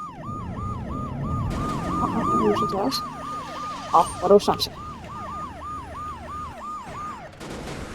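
A video game police car siren wails, cycling continuously, with engine noise and a few thumps, as a person talks briefly over it.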